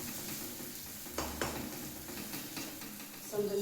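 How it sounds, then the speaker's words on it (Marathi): Masala vegetables being stirred in a home kitchen pan, giving a soft, continuous scraping with a faint sizzle and a couple of louder spoon knocks against the metal. "हे जरा हलवून घ्यायचं"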